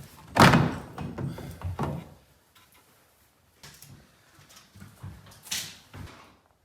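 A wooden door knocks and thumps in its frame as it is set and adjusted on its hinges, with a sharp close bang near the start, a few softer knocks after it and another thud near the end, all fairly close.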